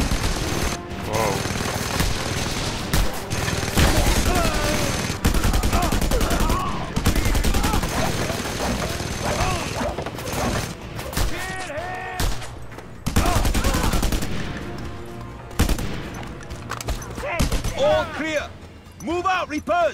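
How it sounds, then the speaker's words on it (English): Rapid, sustained fire from a mounted gun in the Just Cause 2 video game, heavy overlapping bursts rattling loudly and almost without pause, with shouting voices and other battle noise mixed in. "Mounted gun!"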